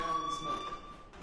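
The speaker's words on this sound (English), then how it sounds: "Hey, do you hear that fire alarm?" A fire alarm rings in the Life is Strange video game as a steady, continuous high electronic tone under muffled background voices.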